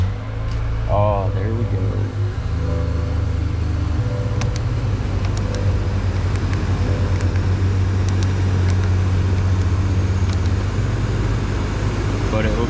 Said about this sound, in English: Let's see if the truck needs to be on for this to come on.